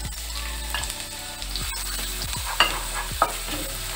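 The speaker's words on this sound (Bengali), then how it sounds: "এখানে আমি রিফাইন অয়েল দিয়েছি, তেলটা গরম হয়ে গেছে, রসুন কুচি," Chopped garlic and ginger fry over high heat in hot refined oil, giving a steady close sizzle with repeated spatula scrapes and a couple of sharper clinks against the pan, over a low steady hum and no talking.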